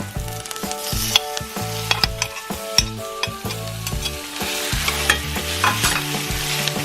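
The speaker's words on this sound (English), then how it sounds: "now that our onions are cooked, we can add in our marinated beef." Thinly sliced marinated beef sizzling and frying with cooked onions in a pan, a steady close hiss broken by repeated scraping and knocking as it is stirred.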